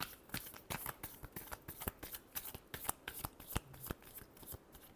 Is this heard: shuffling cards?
yes